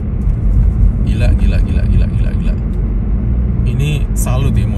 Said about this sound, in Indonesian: mobil diciptakan sini masih bisa jalan ya, minus 40 gini